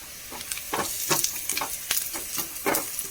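Crushed chili sautéing in a pan, a quiet sizzle broken by a rhythmic series of soft scraping stirs roughly every few tenths of a second.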